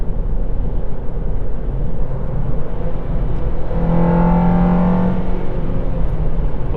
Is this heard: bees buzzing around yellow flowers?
no